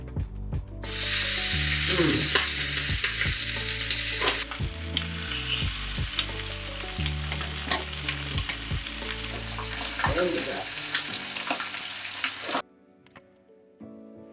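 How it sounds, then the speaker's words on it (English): Chicken pieces laid skin down in a hot pan, a loud continuous sizzle with intermittent knocks and scrapes from the pan, cutting off abruptly near the end to near silence, no talk. "So what we're going to do is put skin down because we want that one to brown fast."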